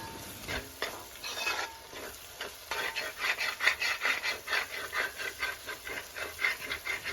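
Masala paste being stirred into onions in a pan for a chicken curry, a steady run of scraping, rubbing strokes with a light sizzle underneath, growing quicker and more rhythmic toward the end, close and with no talk.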